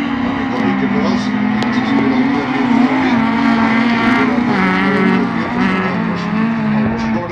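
Several race cars roar around the Momarken circuit in a championship race, their engines a loud, continuous snarl that rises and falls as the pack passes, with a commentator talking over it.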